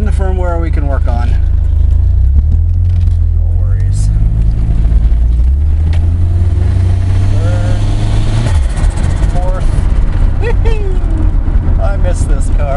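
A car engine lugs at low revs in fourth gear under an electronic automatic transmission controller, deep and labored, with the pitch sliding down and then holding, while a person talks over it.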